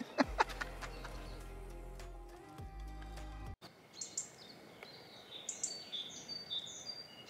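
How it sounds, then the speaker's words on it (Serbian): Birdsong in a forest in the Deliblato Sands area of Serbia on a sunny morning, with faint high chirps and calls scattered through the second half, following a stretch of low rumbling noise at the start. "Ove ptice su se toliko raspevale, sunce sija, prava prirodna idila, bukvalno."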